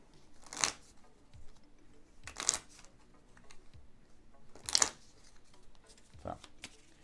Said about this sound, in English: So we'll go ahead and shuffle our decks real quick.